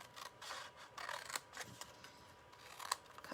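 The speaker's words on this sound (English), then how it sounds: "Cut off that one, and then we'll go ahead and trim the corner." Scissors snipping through paper while trimming corners on a gingerbread and peppermint treat holder craft, a series of quiet, crisp cuts and small crackles at an irregular pace.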